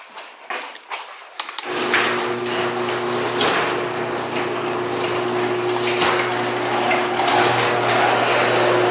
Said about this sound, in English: let's open up the garage door to be safe.